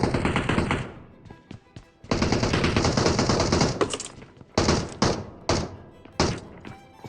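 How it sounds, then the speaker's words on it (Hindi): Bursts of gunfire from the side in BGMI (PUBG Mobile): a long sustained volley, then several short sharp shots and two more dense bursts, loud and close, with no talking. "और इतने में भाई साइड से गोली चलने की आवाज़ आती है।"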